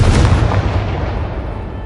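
Confringo blasting spell going off in Hogwarts Legacy, a loud booming burst at the start with heavy low rumble that trails off steadily over a couple of seconds, with no voices.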